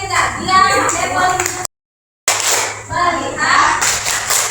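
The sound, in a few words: children clapping in a classroom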